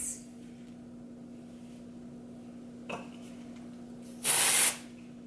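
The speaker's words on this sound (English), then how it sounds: "I'm going to use this Dove dry shampoo just on my roots." A Dove dry shampoo can sprays onto hair roots in one short, loud hiss of about half a second after a quiet stretch, with a small click just before it.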